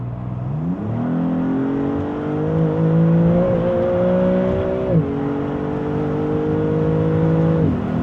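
A Maserati MC20 Cielo, a 640-horsepower sports car, accelerates hard as its loud engine note climbs steadily in pitch, drops briefly at a gear change and climbs again before a second shift, heard close and alone.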